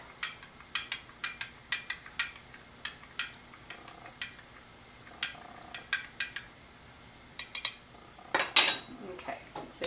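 A spoon stirs store-bought milk in a metal pot, making repeated light clinks and scrapes in an irregular rhythm, with a denser cluster of clatter near the end.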